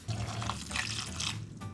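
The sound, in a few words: water poured into pot of raw beef fat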